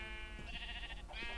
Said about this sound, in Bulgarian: Тук овце.